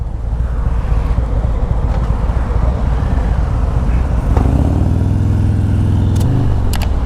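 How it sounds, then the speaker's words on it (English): A Harley-Davidson Road King motorcycle engine rumbles steadily at close range, then revs up in a throaty rise near the end of the stretch, partly masked by wind noise. "Uh-oh, rev bomb, here we go."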